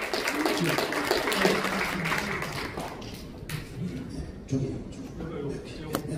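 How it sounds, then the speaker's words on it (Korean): Audience applause at a foundation launch ceremony as a young man is called up to read a chairman's congratulatory address; dense clapping fills the first few seconds and then thins, with a speaker talking over it. "박수를 해주시면 감사하겠습니다"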